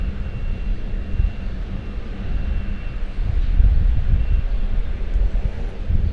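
An Airbus A321 jet at Charlotte-Douglas International Airport gives a loud, steady engine roar that swells midway, heard from a distance with no talk.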